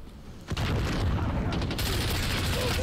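Gunfire in the video game Call of Duty: Modern Warfare, with a sharp burst at the start, then a dense, continuous rattle of shots and booms.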